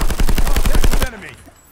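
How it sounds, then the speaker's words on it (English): Rapid automatic gunfire in a video game shooter, a loud close burst of about a dozen evenly spaced shots lasting a second, then a fading ringing tail. "ran straight into that man's bullets instead of switching my guns"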